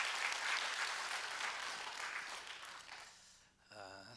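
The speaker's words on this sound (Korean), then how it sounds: "감사함과 고마운 마음을 담아서 여러분 박수 한번 해주세요" Church congregation applauding together, a dense steady clapping that fills the first three seconds and then fades out before a voice begins speaking.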